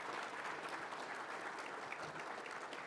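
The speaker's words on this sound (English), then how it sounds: "So please join me in a round of applause as we welcome our students and thank our sponsors." Audience applause welcoming students and sponsors, a steady dense wash of clapping hands that holds at an even level throughout with no speech over it.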